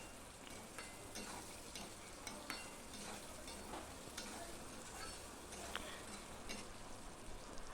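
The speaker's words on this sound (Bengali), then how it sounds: "আমি আবার ঢাকা দিয়ে দিয়ে আলুটা ভেজে নিচ্ছি" Potatoes frying in a covered pan with salt, for a vegetarian banana-flower dish, give a steady low sizzle with scattered light crackles and occasional stirring clicks, fairly faint and constant throughout.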